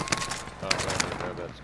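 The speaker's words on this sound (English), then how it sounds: "they're shooting that at me from somewhere" Several rapid gunshots crack out in short bursts during a tense video game firefight, fairly quiet and distant, layered over low background noise.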